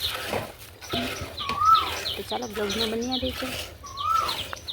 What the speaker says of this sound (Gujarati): મસ્ત મજાની કોયલ બોલે છે